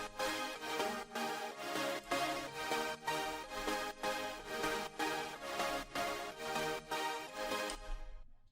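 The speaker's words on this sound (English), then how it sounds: "And this gives it that really nice wide effect." Bright, stereo-widened synth drop chords in an electronic track pulse steadily in a rhythmic pattern at full, sustained loudness, then cut off abruptly at the end.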